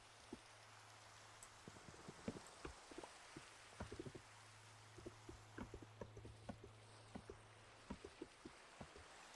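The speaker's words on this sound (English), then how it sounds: "Finally, it stopped raining." Rain in the Minecraft video game falls quietly, with scattered soft drops ticking irregularly over a faint low hum.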